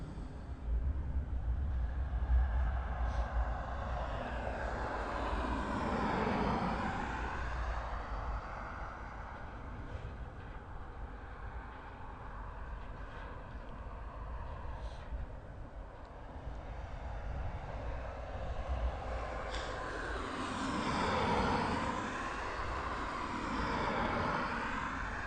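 A DHL 747 cargo jet rumbles overhead through cloud near East Midlands Airport, a steady broadband roar that swells and fades over about twenty-five seconds, with no talk.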